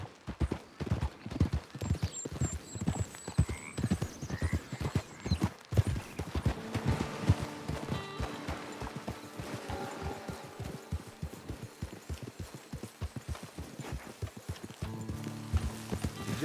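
Horse hooves clip-clop steadily and close by in the video game Red Dead Redemption 2, a continuous rhythmic trot under music and ambient game sounds, with an occasional snort.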